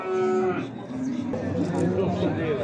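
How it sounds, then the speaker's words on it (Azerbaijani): Calves moo repeatedly at a busy livestock market in Beyləqan, their drawn-out lowing rising over a crowd's steady murmur and nearby voices. "bu belə danalar var"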